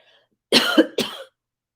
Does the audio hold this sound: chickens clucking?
no